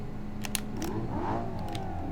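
A manual car in the BeamNG Drive driving game revs high, around 7,000 RPM, after a downshift into third on a highway, a steady loud engine whine rising and falling with a few brief clicks, no speech.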